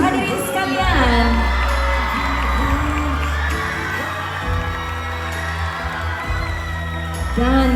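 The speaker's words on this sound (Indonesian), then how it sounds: "Kita berikan tepukan yang gemuruh hadirin sekalian." Loud audience applause and cheering at the Unduk Ngadau beauty pageant crowning, a sustained roar of clapping with whoops and shouts from the crowd that swells and fades, with a voice speaking through it.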